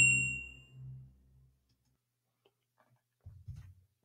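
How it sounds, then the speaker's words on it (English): A bell rings to mark halftime on a podcast show, a single decaying ding up front that fades out, followed by silence and a few faint clicks and thumps. "And that bell means halftime is over."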